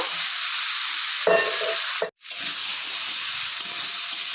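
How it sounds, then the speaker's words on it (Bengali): Spices and turmeric sizzling in hot oil in a pan, a continuous bright hiss with a brief stirring clatter and one sudden short break before the frying hiss resumes. "সব কিছু আমি একটু ভাজা ভাজা করে নেব"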